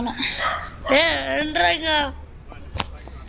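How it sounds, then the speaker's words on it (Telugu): A female puppy gives a few short yips and barks nearby, mixed with people talking. "పిల్లుంది మా ఇంటికి, ఆడ కుక్క పిల్లుంది."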